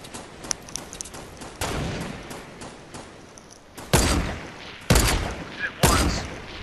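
Fortnite squad match gunfire: rapid bursts and single loud shots, some close and sharp, others farther off, with a few short pauses between volleys and faint voices underneath.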